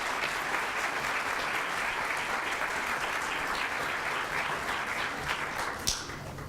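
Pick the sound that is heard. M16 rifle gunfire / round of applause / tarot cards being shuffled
round of applause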